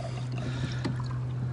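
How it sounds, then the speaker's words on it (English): Water siphoning out through the scuppers of a loaded 2019 Hobie Mirage Outback kayak, a continuous low gurgling drain with a steady hum underneath and faint trickles, close and even throughout. "it's draining so well, it was creating a siphon."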